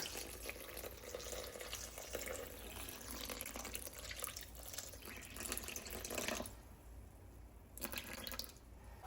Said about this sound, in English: I'm gonna add in my water